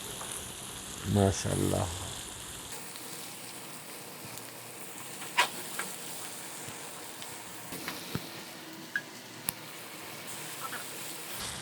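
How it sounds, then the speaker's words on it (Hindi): A potato and capsicum curry fries in a pan with a steady close sizzle and occasional small pops, and a voice speaks briefly near the start. "सालन फ्राई होने जा रहा है।"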